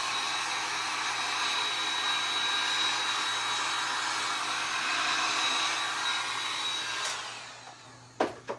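A hair dryer blows on a freshly designed tote bag, a steady close whoosh for about seven seconds before it shuts off, followed by a couple of handling knocks.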